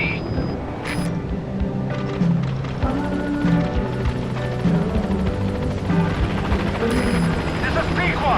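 Helicopter arriving at a landing zone in Metal Gear Solid V: The Phantom Pain, a loud, steady rotor drone with a few sharp game interface beeps, and voices talking over it.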